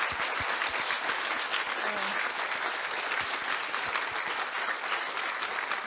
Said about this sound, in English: another big round of applause for all of our excellent speakers today